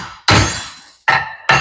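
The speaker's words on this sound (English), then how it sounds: "so I got the spacer, and then I got a wheel nut on. Give it a couple little cranks." Three sharp metallic clanks from a wrench cranking a wheel nut onto a wheel stud held in a vise on a 1969 Super Bee axle, each strike ringing briefly before fading.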